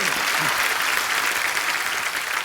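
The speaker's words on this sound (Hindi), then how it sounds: "ठोको ताली, ठोको" A studio audience on a comedy talk show breaks into dense, loud, continuous applause, with a voice briefly audible at the start.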